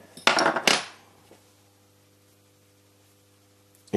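Two short metallic clinks and scrapes from a blade bending a small metal ring in a workshop, close and crisp, followed by quiet with a faint steady hum.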